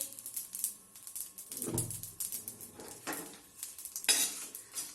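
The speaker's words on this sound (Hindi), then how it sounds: "अब हम ये मसाले कढ़ाई में डाल देंगे और इसको थोड़ा सा भूनेंगे हम इस तरीके से अलट पलट करते हुए" Whole spices roasting in a kadhai while being turned over, a soft dry sizzle under repeated metallic clinks and scrapes of a spoon against the pan, close by and irregular, with no talking.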